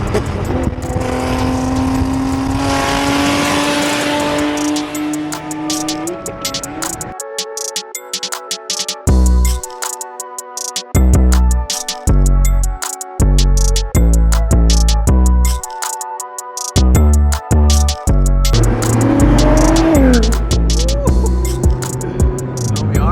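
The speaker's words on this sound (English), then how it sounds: "those downshifts sound insane." A 700hp Nissan GT-R at an exotic car meet, loud and close, accelerating hard then downshifting in a rapid run of sharp revs with crackling pops and chopped bursts before the engine settles back into a steady drone.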